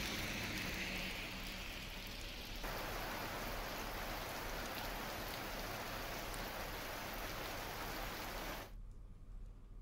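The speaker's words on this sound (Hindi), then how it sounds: "गरज चमक के साथ कई इलाकों में जोरदार बारिश हुई, मौसम में ठंडक घुल गई।" Heavy rain pours steadily in a downpour, a dense, even hiss of drops close by that stays loud throughout before dropping away abruptly near the end; no distinct thunder stands out.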